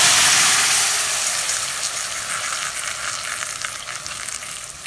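Onions and tomatoes fry in hot oil in a pan for sambar, a steady loud sizzle that fades slightly and then holds even, with no talking.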